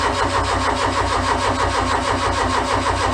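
A car engine runs steadily and loud up close, a medium-pitched throb with a regular pulsing rhythm, catching and settling into a running beat throughout.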